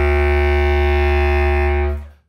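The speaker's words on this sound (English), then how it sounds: "If I was to play the same note on the bass clarinet, which is actually the same fingering, it would sound like this." Bass clarinet playing the same low-fingered note, a deep, loud, sustained tone with strong rumbling fundamental held about two seconds alone before stopping.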